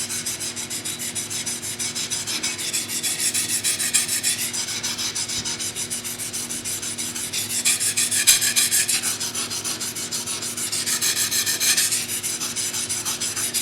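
A wakizashi blade rubs back and forth on a waterstone during polishing, a steady, close scraping hiss that swells in louder passes and continues without pause.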